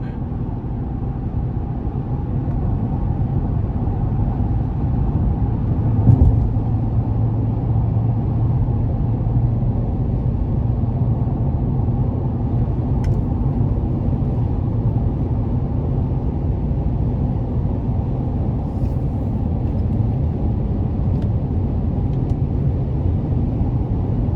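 A 2020 Chevrolet Colorado Z71 4WD pickup with the 3.6L engine accelerates onto the interstate, giving a steady low engine and road drone inside the cab that holds level throughout, with no talking.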